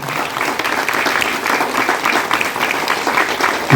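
Applause from the audience at a student bag distribution event in Tiruppur, steady crowd clapping at moderate loudness that carries on evenly throughout, with no speech over it.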